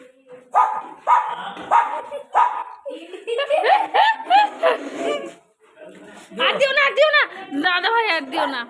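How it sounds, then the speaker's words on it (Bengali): A dog barks in a few quick bursts close by at a home puja gathering, and people talk and laugh over and between the barks. "কুকুরের আওয়াজ"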